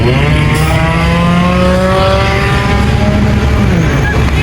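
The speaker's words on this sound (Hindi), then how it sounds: "ये कौन सी गाड़ी है तारिक?" A car engine drones loudly and close by in a total traffic jam on a Pakistani street on the night of 14 August, its pitch sliding steadily as it moves past over constant road noise.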